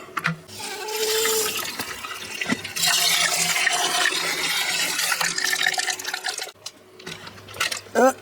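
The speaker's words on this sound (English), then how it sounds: "and then we add a little bit of water." Water is poured onto succulents, splashing and trickling steadily for several seconds, a close, hissing pour with small clatters, tapering off near the end amid light handling noises.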